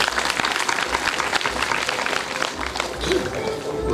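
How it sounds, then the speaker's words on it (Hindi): Audience at a 24-kund yagna welcome ceremony and Pragya Puran katha bursts into loud, sustained applause, a dense wash of clapping from a large crowd that carries steadily throughout. "ताली बजाइए सर।"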